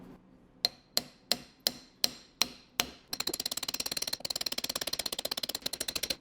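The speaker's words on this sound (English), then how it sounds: "Now with every blow of the hammer, I can feel that it's moving" A hammer tapping a pipe against an old gear to seat a gear onto a 1972 Triumph GT6 transmission: seven sharp, evenly spaced metallic blows, then a rapid continuous flurry of lighter taps, close and clear.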